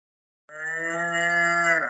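A recorded cow gives one long, loud, steady moo that starts after a brief silence and carries on to the end, with no voices.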